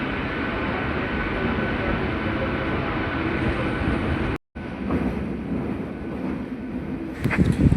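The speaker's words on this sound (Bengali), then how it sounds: "আর বন্ধুরা আমাদের ট্রেন এসে পৌঁছালো বাঁকড়া নয়াবাদ স্টেশন" A local train on the Howrah–Amta line pulls into Bankra Nayabaz station, with a steady rumbling roar throughout, a brief dropout near the middle and a louder clatter at the end, while someone speaks over it.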